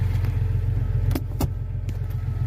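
A Jeep Cherokee fitted with a manual transmission swap idles close by with a low, steady rumble, and a few sharp clicks and jingling key sounds cut in over it.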